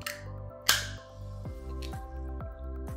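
A can of Waterloo lemon lime sparkling water is cracked open with a sharp, close pop and brief hiss, followed by faint fizzing over a steady background hum.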